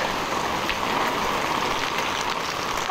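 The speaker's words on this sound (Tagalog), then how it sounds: "hindi naman tumigil yung ulan talaga. Tuloy-tuloy yung ulan." Continuous rain from typhoon Kristine falls in an even, unbroken hiss, a dense patter of drops on surfaces, steady and moderately loud throughout.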